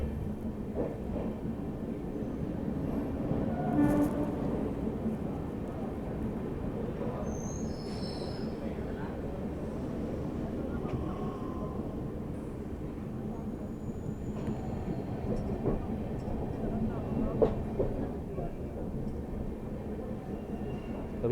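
Delhi Pathankot Superfast Express (22429) running on rails, heard from inside the train: a steady rumbling roar with faint wheel squeals and occasional metallic clanks, continuous throughout and fairly loud.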